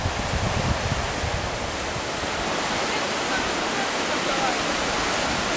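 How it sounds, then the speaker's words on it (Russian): Waves break along the Azov Sea shore near Yurkino in Crimea, a steady, close roar of surf mixed with strong wind that covers everything from start to finish. "мы выходим к морю"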